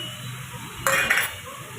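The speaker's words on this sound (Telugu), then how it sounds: "టమాటా వేసుకొని మంచిగా కలుపుకుందాం" Tomato is stirred into a broad bean curry in a pan: a brief burst of metallic scraping and clinking from the spoon against the pan over a faint background hiss.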